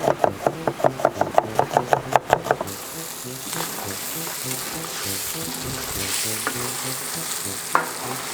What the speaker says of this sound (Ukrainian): Поки смажиться наше м'ясце